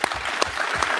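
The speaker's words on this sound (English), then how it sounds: "can we have a round of applause?" A live audience claps for a performer, a brief burst of dense, steady applause with a few sharper individual claps standing out.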